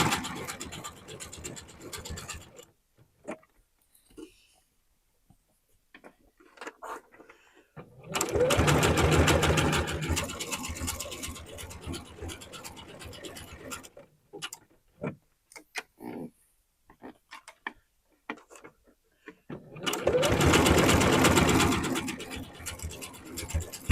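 A sewing machine stitches a set-in sleeve on knit fabric in two loud, steady runs of rapid mechanical whirring, separated by quiet stretches with small clicks and handling noises.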